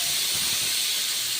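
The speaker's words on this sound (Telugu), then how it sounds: "ఇక్కడ పప్పు ఉడికిపోయింది, అంటే పప్పు విజిల్ వస్తుంది." A pressure cooker of dal on the stove lets out a loud, steady steam whistle, a continuous close hiss for the whole moment.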